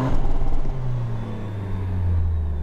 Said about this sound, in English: while the car's on, you want to give me a rev? We'll do the world's first 4Runner rev